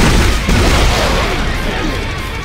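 An exploder enemy blowing up in the video game Dead Space, a loud, dense explosive blast with a booming rumble and debris noise that fills the short clip and barely fades.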